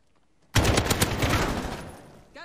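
Loud burst of automatic gunfire in a Call of Duty 2v2 gunfight match, a dense sustained rattle of rapid shots that fades out over about two seconds, followed by a brief voice at the end.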